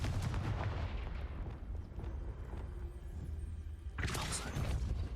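A Confringo fire spell in Hogwarts Legacy goes off as a loud explosive blast over rumbling game noise, with a sharp burst near the end.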